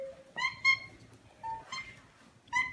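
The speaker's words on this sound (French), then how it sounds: "un petit miaulement de bébé" A kitten gives three short, high, tonal meows at a close distance, spaced about a second apart, with quiet room background between them.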